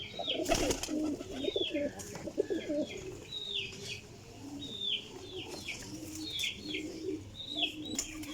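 Teddy pigeons coo in soft, repeated throaty calls, several birds close by, with occasional wing flaps and chirps mixed in.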